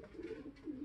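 A racing pigeon coos softly nearby, two or three throaty, warbling rolls that rise and fall in quick succession, faint and alone.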